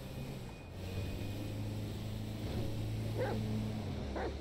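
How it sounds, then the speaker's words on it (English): A dog barks and whimpers in GTA V, a few short barks and yips rising over a steady low engine-like drone in the game's soundscape. "Chop a free spirit. He bark all he like."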